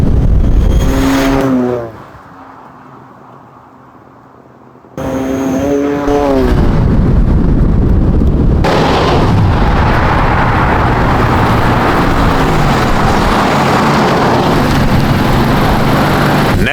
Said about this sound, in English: Next on my list of my favorite mods is my exhaust that I have.